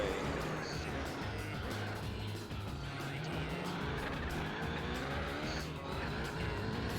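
A racing car engine in Gran Turismo 4 drones with tonal whine while tires squeal and skid under hard braking, loud and close, with some talking underneath.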